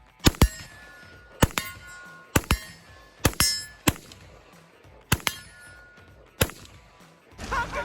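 AR-15 rifle firing steel case 5.56 ammunition at a target about 40 yards out outdoors: sharp, loud single shots in an irregular string of about ten, each with a brief ringing tail, no talk.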